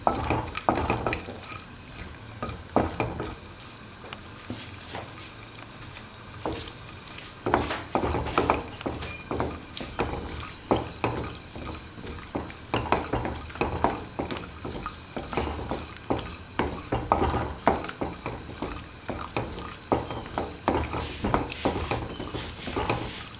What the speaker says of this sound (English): Sort until the cashews are nicely browned.